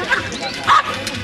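A dog gives two or three sharp, yelping barks in quick succession, close and loud, with voices mixed in, during a dog training and attack demonstration.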